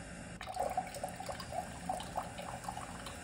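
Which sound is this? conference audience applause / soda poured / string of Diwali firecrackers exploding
soda poured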